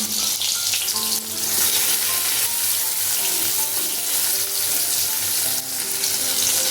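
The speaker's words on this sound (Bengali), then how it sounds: "গোটা জিরে এবার দিয়ে দিচ্ছি টমেটো টমেটোটা ভেজে নিচ্ছি" Tomato frying in hot oil with whole cumin and bay leaf in a pan, a steady loud broadband sizzle with faint stirring and clinks throughout.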